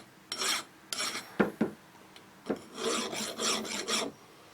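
A hand file rasping across a metal workpiece in short strokes, close by, in irregular bursts with brief gaps, no voices.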